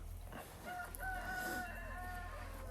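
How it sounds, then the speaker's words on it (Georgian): A rooster crows repeatedly with long wavering calls, with hens clucking nearby at a farm, over a steady low background hum and no talk. "მამლის ყივილის ფონზე"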